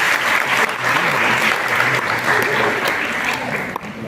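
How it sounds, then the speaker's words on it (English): A press conference audience of guests and media gives continuous applause for The Rings of Power, a full, even roar of many hands clapping with faint voices mixed in. "can we have a round of applause for everybody"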